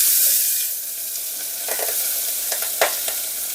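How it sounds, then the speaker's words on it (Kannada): Chopped onion, dried red chillies and curry leaves sizzle in hot tempering oil for a rasam, a continuous bright hiss with a few soft stirring scrapes toward the end. "ಇದಿಷ್ಟನ್ನು ಆ ಒಗ್ಗರಣೆಯಲ್ಲೇ ಬಾಡಿಸ್ಕೊಳ್ಳೋಣ ಸ್ನೇಹಿತರೆ"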